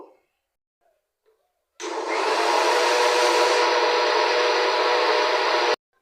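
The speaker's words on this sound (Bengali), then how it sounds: "এগুলো ব্লেন্ডারে দিয়ে এখন মশলাটা করে নেব।" A blender grinds onion, garlic, ginger, whole coriander and tomato into a spice paste. The motor starts abruptly after a quiet gap, runs loud and steady for about four seconds, then cuts off sharply.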